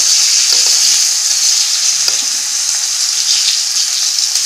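Chopped medium-sized onion sizzles steadily in a hot pan, a loud continuous hiss with faint stirring clicks and no voices.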